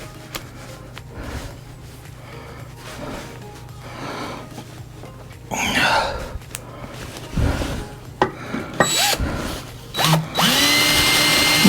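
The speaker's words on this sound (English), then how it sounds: "We'll drill these holes, these 4 holes first" A power drill drills holes in a hub of a 1970s Cushman Truckster, running in short, uneven bursts, biting in and stopping repeatedly, with a louder, sustained whirring spell near the end.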